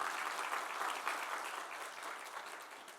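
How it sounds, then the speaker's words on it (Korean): Church congregation clapping together at a missionary gathering, a dense burst of applause that starts full and slowly tapers off over three seconds, with no voices over it. "또 박수 한번 더 쳐주시고"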